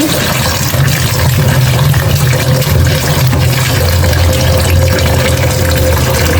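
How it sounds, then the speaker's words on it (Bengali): Vegetables are washed under strong running water: a loud, steady, close rush of splashing water that continues unbroken without any talk. "এই যে আমি সবজিটা ধুয়ে নেবেনছি"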